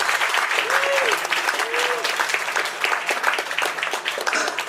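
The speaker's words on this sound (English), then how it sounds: "And a round of applause for our 74 kilo open podium finishers." A crowd applauds steadily at a weightlifting competition podium ceremony, dense clapping sustained throughout at moderate loudness, with a couple of brief whistles in the first half.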